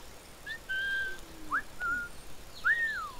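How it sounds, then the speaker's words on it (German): Character whistling in the Assassin's Creed 4 video game: a few short, clear whistled notes with rising and falling pitch, spaced apart over quiet background, no talking. "Wieso kann ich jetzt mir nicht pfeifen?"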